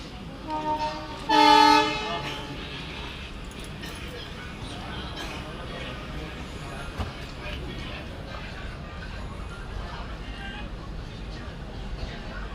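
The Vindhyachal Express, train 22173, stands on a washing line in the Jabalpur yard; a loud horn blast sounds near the start, then a low rumbling yard ambience with faint clanks and voices.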